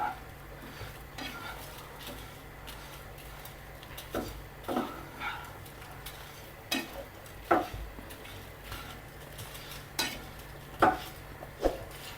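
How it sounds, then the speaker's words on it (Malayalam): Grated coconut being dry-roasted in a pan, with a steady soft scrape and rustle and repeated sharper clinks of a spoon against the pan, near and fairly quiet. "ഭയങ്കരമായിട്ടങ്ങ് വറുക്കണ്ട, ചെറിയൊരു പച്ച മണം ഒന്ന് മാറിയാൽ മതി തേങ്ങയുടെ."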